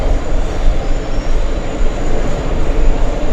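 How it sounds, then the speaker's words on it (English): A Boeing 747 airliner at JFK airport gives off a loud, steady, broadband jet roar that fills the whole stretch without a break, with no voices over it. "Big 747 stealing the spotlight, catching me by complete surprise."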